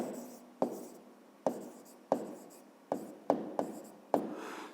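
A pen writes by hand on paper during a fifth-grade geometry exercise: short scratchy strokes come in quick, evenly spaced bursts, close and fairly quiet, and no one speaks.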